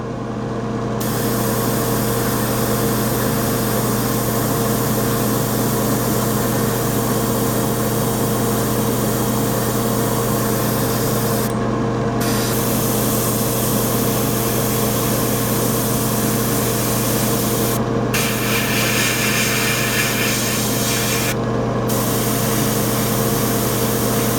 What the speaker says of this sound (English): now I'm going to use my airbrush and start the painting process by painting all the panel lines with a gray color